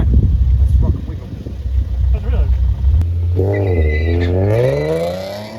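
Nissan 370Z launching in a drag race elimination round, engine note rising in a steady climbing roar through the gears after a loud rumbling start, close and strong, with a voice talking over it at first.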